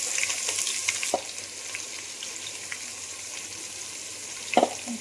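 Garlic-ginger paste sizzles in hot oil in a pan for pulao, a steady close hiss with a few sharp stirring clinks and no talking.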